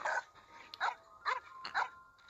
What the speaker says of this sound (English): Can I pet the dog?